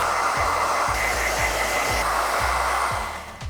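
A hair dryer blows steadily on freshly dyed pink and peach hair, a loud continuous whoosh with a low rhythmic pulsing, tailing off at the very end.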